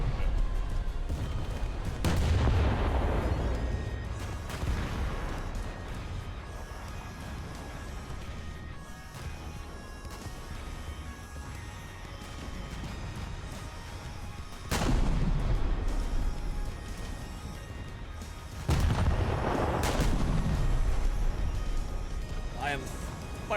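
Tank cannon shots in War Thunder during a spring crafting event match, with loud booms roughly every few seconds over a steady engine rumble, interspersed with someone talking.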